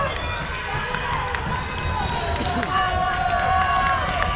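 Ludlow fans make noise during a boys' district tournament basketball game against Villa Madonna, a loud, continuous crowd roar with scattered shouts and whistles, with sneaker squeaks and commentary running over it.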